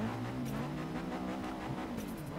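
A 2004 Subaru engine in Forza Horizon 3 revs steadily with a low droning note that climbs slightly, a continuous moderately loud engine tone alone for a couple of seconds.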